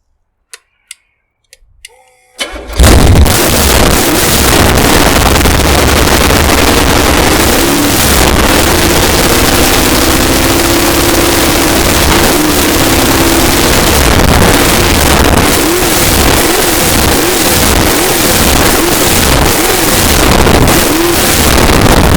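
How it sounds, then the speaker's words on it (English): A 496 cubic-inch big block Chevy stroker engine cranks and catches after a short silence, then runs loud and steady with a rough, pulsing idle close by. "let me fire it up for you"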